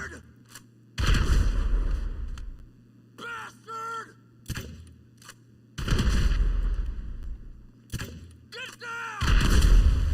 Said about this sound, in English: All right, when in doubt, grenades.